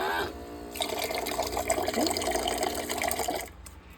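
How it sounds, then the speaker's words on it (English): Water runs from a button-operated water dispenser into a container, a steady splashing, gurgling fill lasting about three seconds up close before it cuts off. "I press the button up here, and the water goes into my container."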